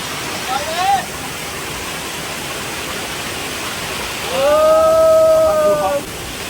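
A small waterfall near Cheruthoni dam in Idukki hisses as a steady wash of falling water, with a person's voice speaking briefly over it near the end.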